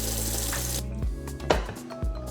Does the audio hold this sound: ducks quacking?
no